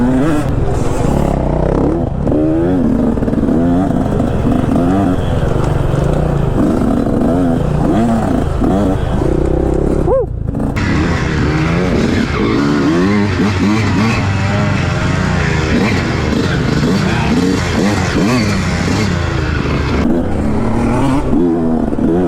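Motocross bikes, a Honda CR125 two-stroke and a Husqvarna FC450, rev and rattle loudly on a muddy trail ride, engines rising and falling close by with a brief dip midway and voices partly mixed in.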